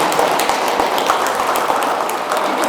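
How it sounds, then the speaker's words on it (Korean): Audience applause at a book talk during a literary festival, a steady dense wash of many hands clapping close by, continuous throughout. "다시 한번 박수 좀 드리면서"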